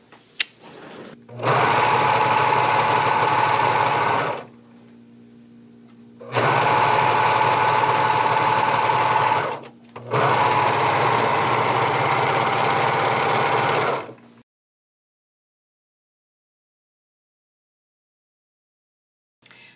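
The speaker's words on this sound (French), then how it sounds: "je vais aller faire ma finition au surjet" An overlock serger finishes the seam of a tunic in three loud, steady runs of rapid whirring stitching, each a few seconds long, separated by short pauses and ending in silence.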